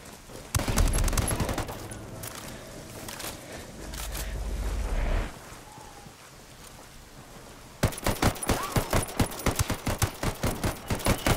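Gunfire in a Ghost Recon Wildlands multiplayer match: a loud burst of close shots, a sustained roar, then a rapid string of sharp shots, with no talk over it.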